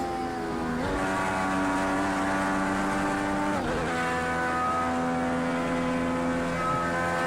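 A racing car in the video game Project Cars 2, its engine droning loudly and steadily, with the pitch dipping and climbing again at two gear shifts, and no voices over it.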